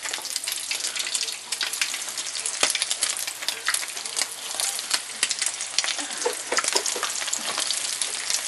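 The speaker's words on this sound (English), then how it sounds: "Okay, so they're going to fry up, and you just let them keep frying." Canned salmon cakes frying in a pan of oil make a loud, dense, continuous sizzle with scattered sharp pops and crackles, close up and with no talk.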